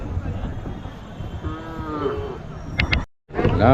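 Native breed calves at a cattle market moo in short bellowing calls, near and fairly loud, over the din of the livestock yard, with a brief gap before more lowing.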